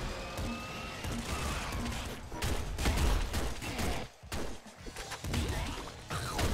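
Bombs exploding in the video game Nuclear Throne, a dense run of crashing blasts and rapid gunfire bursts, loud and continuous with brief dips, no voices over them.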